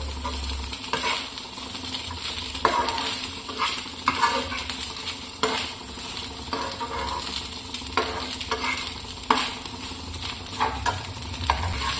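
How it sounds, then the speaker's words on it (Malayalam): Leftover rice with egg and turmeric sautéing in a hot pan, a loud continuous sizzle with repeated scraping strokes of a spatula across twelve seconds, no voices. "എല്ലാം കൂടെ നമുക്ക് ഒന്നുകൂടെ വഴറ്റിയെടുക്കാം"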